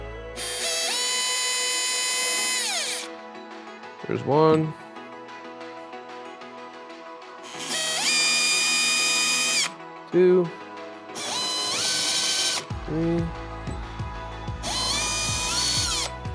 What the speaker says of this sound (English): I'm going to create some small little drill dimples using the bottom half of the clamp as my guide